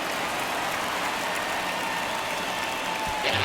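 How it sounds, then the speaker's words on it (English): Crowd noise at a baseball stadium in MLB The Show 22 during a Braves at Mets game, a steady broad wash of cheering and murmur that holds evenly throughout, with a brief louder swell near the end. "you can feel this crowd waking up a bit here"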